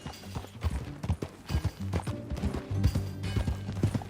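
Horse hooves clip-clop in an uneven walking rhythm, close and clear, with a faint low musical backdrop, in the video game Red Dead Redemption 2.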